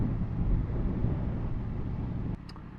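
Riding a Yamaha MT10 motorcycle along a coastal road, the engine rumbles steadily under heavy wind rush, then drops suddenly quieter near the end, where a short tonal blip sounds.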